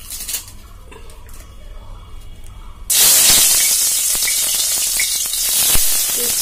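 Bay leaf and coarsely crushed garlic dropped into hot oil in a kadai, a quiet kitchen hum giving way to a sudden loud, steady sizzle with small crackles and spatters that keeps going, close up.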